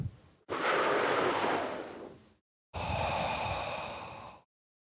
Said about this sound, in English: It's a deep breath. It's a breathing exercise.